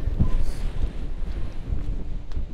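Strong wind roars across an exposed Lake District mountain peak, a loud, continuous buffeting rumble that batters the microphone with gusting surges and no other sound.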